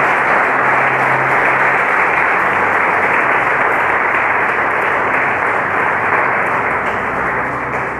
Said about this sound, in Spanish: Levantamos aplausos al Señor.